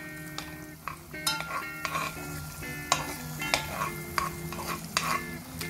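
Garlic and pepper frying in a pan for pink pasta, stirred with a utensil that clinks sharply against the pan over a steady sizzle, close up with no speech.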